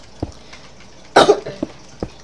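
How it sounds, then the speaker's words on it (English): A single person coughs once sharply, a harsh close burst in the middle, with a few quieter throat sounds before and after in an otherwise quiet room. "Coughing."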